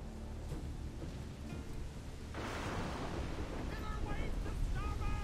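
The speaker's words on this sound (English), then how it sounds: "Yeah, I see the rough waves." Rough ocean waves crash in the video game Assassin's Creed Black Flag, a loud rushing surf and wind wash swelling midway, with faint voices and tonal calls near the end.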